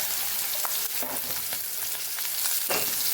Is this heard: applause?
no